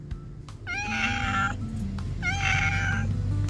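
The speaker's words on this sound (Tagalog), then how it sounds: "Tingnan itong stray cat na to" A stray cat gives two long, drawn-out meows about a second apart, clear and fairly close over a low steady background rumble.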